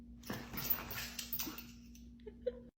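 A dog whimpers after being sneezed on, a few soft high whines and yips close by over a steady low hum.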